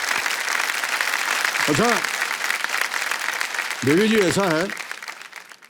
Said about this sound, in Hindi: फिर ताली बजवा देते हैं आपको।